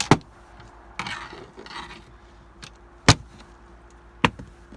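Flathead screwdriver prying an interior car trim piece loose, with scraping and rubbing followed by several sharp cracks and pops as the clips release.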